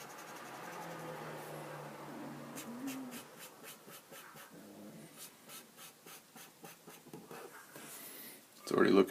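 A pen scratches ink shadows onto a Batman comic portrait in a steady series of short, close strokes. Near the end, a louder noise and faint background sound come in.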